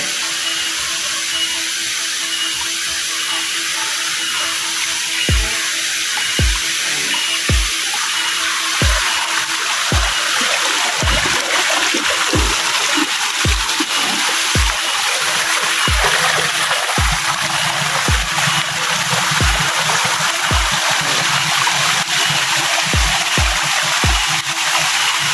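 A small waterfall splits into two streams, pouring in a steady rushing wash while water drips and plops at intervals, with no talking.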